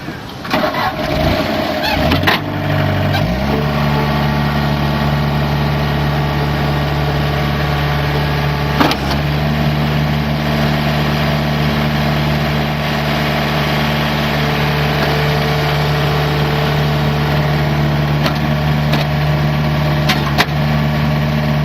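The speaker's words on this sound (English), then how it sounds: "Watch now for a demonstration of the range of movement of a skid steer bucket." A Bobcat skid steer's engine runs steadily at a loud, constant drone as the bucket moves through its range, starting with a brief revving shift and then holding an even hum with occasional clanks.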